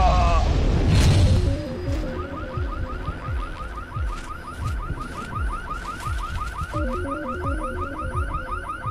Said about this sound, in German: So, da habe ich die Alarmanlage ausgelöst.